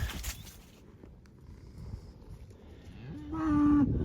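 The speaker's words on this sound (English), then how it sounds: "found a little handful of cows, which is a lot better than what we have been finding" A cow moos loudly near the end, a drawn-out low call over faint outdoor rustling and footsteps.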